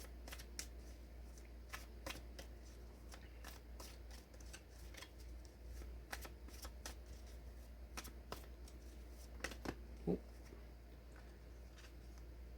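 Tarot cards being shuffled, a soft rapid patter of flicks and taps continuing steadily and faintly over a low steady hum.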